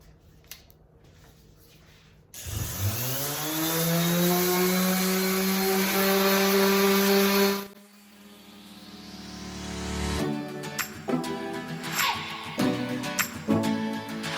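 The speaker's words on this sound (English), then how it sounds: "80 grit sandpaper on my Palm Orbit sander, and we're gonna go ahead and just sand down this top" A palm orbital sander with 80-grit sandpaper sanding a marble top whines steadily for several seconds, its pitch rising as it spins up, then cuts out and gives way to scattered knocks and handling noise.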